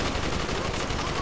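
Dense gunfire from a gun in the Call of Duty Black Ops campaign rattles as a continuous burst of rapid shots, loud and close, filling the whole stretch with no pause.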